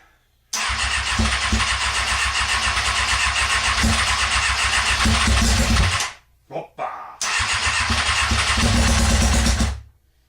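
Carbureted Kawasaki ZX6R engine cranking and catching on a weak battery, running loudly for several seconds, stumbling and nearly dying, then roaring back before cutting off.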